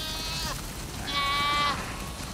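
Sheep in The Last of Us Part II bleat twice in quick succession, two drawn-out nasal calls over a steady outdoor background hum, fairly close.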